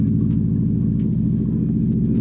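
A car exhaust that is louder than intended, giving a steady, deep idling rumble with a low pulsing throb that stays constant and close throughout, with no talk.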